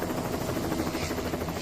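A helicopter hovers beside 500,000-volt high-voltage power lines, its steady rotor and engine roar filling the scene continuously at close range with no talk.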